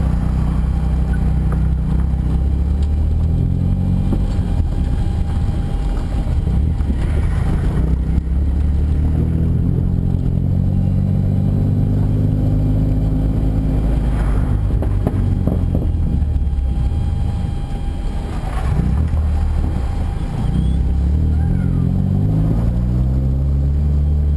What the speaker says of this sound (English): Motorcycle starts. Oh, he got it running.